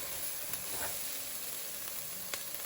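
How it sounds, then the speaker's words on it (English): Onions and bell peppers sizzle in a soup pot, a steady, soft hiss with faint crackles, fairly quiet and unbroken. "Ain't nothing like onions cooking up."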